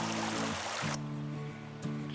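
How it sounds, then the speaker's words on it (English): A small side creek on a wilderness trail flows in a steady close rush of water, with faint low hum and brief shifts in the flow. "I'm crossing a pretty little side creek here"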